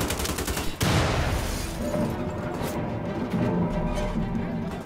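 Sustained gunfire from the video game Wolfenstein: The Old Blood, dense rapid automatic bursts with a sharp blast near the start, continuous and loud throughout with no talk.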